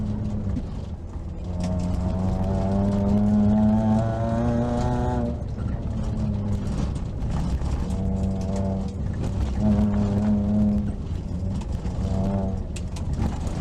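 A Suzuki Swift Group N rally car brakes on a rally school course, its engine droning with shifting pitch close by, with steady tones that fall and rise again.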